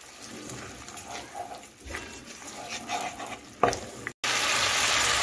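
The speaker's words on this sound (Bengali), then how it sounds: "আর কাজু পেস্টটা দিয়ে দিচ্ছি। এটাকে একটু ভালো করে কষিয়ে নিচ্ছি।" Cashew paste with poppy seed paste sautéing in a pan for a mixed vegetable curry, a steady soft sizzle with occasional stirring scrapes and a brief louder clatter near the end.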